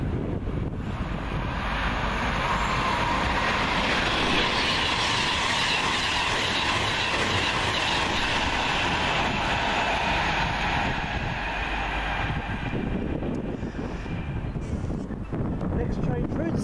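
A Pendolino train passing through Wolverton toward London Euston, a loud sustained rushing roar building quickly and holding for many seconds before easing off, with wind buffeting the microphone.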